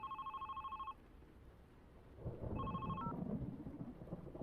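A telephone rings with two electronic bursts in the background of the video game The Red Strings Club, the second cut short as low rumbling noise swells underneath.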